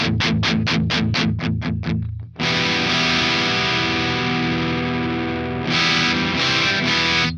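Electric guitar through a Mooer 005 Micro Preamp on its crunch channel: a burst of rapid palm-muted chugs, then loud sustained overdriven chords ringing out, with a few closing stabs.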